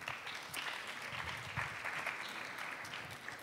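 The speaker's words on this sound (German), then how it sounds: "Großen Applaus bitte." A steady wash of audience applause at a music-industry talk event, fairly quiet and distant, continuous clapping with no speech over it.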